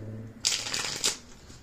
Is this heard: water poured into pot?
no